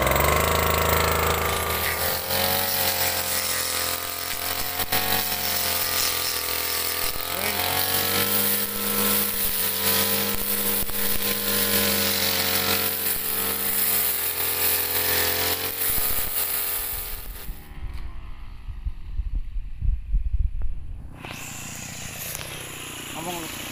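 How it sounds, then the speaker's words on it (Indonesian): Tanika brush cutter cutting grass around a hut, a loud continuous buzzing engine whine that rises and falls with the cut, then drops off near the end and revs again briefly. "Tanika brush cutter luar biasa, mesin potong rumputnya."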